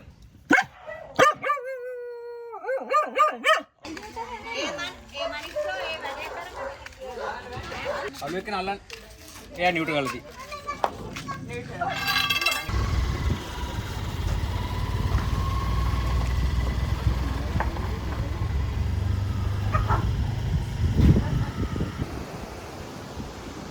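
Dogs and puppies in Sri Lanka bark and yip in short, sharp bursts, with high whimpering yelps early on, then give way to a steady engine-like rumble and background noise.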